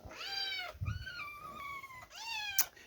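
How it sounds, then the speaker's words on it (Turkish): Cats meowing indoors at close range: three drawn-out, rising-and-falling meows in quick succession, fairly faint, with a brief low thump between the first two and a short sharp click near the end. "Ya şunların miyavlaması öldürüyor beni ya"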